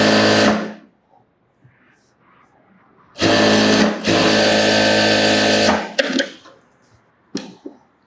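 Sewing machine stitching a blouse hem with rough tacking stitches, running in two bursts: one brief run, then a longer steady whir of a few seconds, with short clicks and pauses between.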